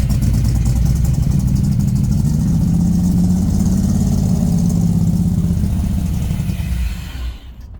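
A 1964 Chevy Suburban engine running after carburetor work, loud and close, holding a steady rumbling speed before dropping off and dying out near the end.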